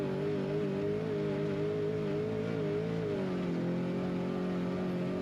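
An off-road race truck engine holds a steady high-RPM drone at the SCORE San Felipe 250 desert race, continuous and fairly close for several seconds with a slight pitch dip near the end and no talking.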